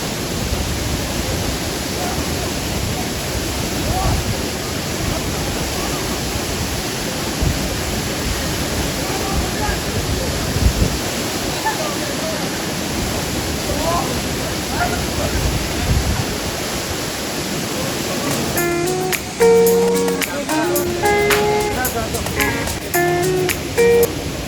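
A waterfall in Nainital, India, pours with a loud, steady broadband rush of falling water that fills the whole scene, with faint voices and a brief tonal sound near the end.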